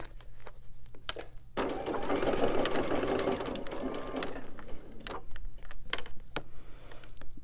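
A sewing machine stitches a seam in one steady whirring run lasting several seconds, with brief quieter pauses and light clicks of the presser foot before and after; close by, with no talking.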